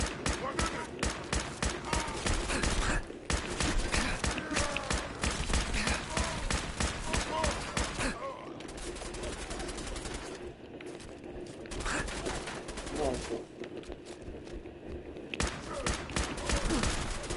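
Rapid bursts of gunfire from a gun in Fallout 4 crackle in dense, repeated volleys through most of the stretch, easing briefly in the middle before resuming, with occasional voices talking over the shots.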